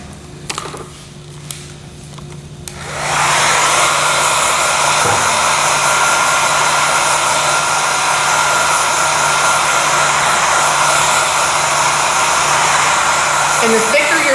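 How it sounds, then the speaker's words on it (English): A hair dryer clicks on after a few quiet seconds and then blows steadily and loudly, drying wet paint on a space-themed painting, a continuous close whoosh with no talk. "I'm gonna blow dry it for just a second so it's not as wet"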